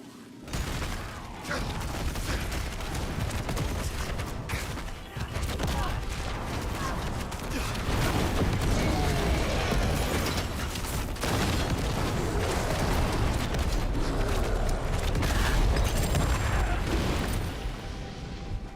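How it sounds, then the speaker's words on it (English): Dense, continuous explosions and crashing combat effects in the video game Diablo 4, loud and busy throughout with steady rumbling booms and a voice talking over them at times. "Keep seeing those explosions."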